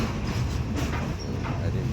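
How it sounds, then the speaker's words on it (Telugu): A passenger train crosses a long bridge over a river near Vijayawada, with a steady low rumble and rolling rail noise heard up close from inside the carriage, continuous throughout. "నది మీద నుంచి ఫస్ట్ టైం ట్రైన్ ఎక్కిందా కరిష్మా?"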